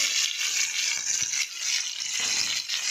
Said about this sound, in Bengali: ইঁচড় আর আলুটা একটু ভেজে নেবো।